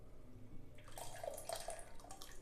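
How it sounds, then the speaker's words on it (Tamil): Dissolved tamarind water being poured into cooked dal, a soft, steady liquid trickle with brief splashy drips, faint and close, with no talking over it. "புளியை கரைச்சி அதில் ஊற்றிடலாம்"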